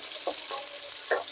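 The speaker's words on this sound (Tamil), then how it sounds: "இப்ப சின்ன வெங்காயம் போட்டு 2 நிமிஷம் வதக்கிட்டு இஞ்சி பூண்டு சேர்த்திக்கலாம்." Small shallots (pearl onions) frying in a pan, with a soft steady sizzle and a few brief stirring scrapes, close by and with no talk.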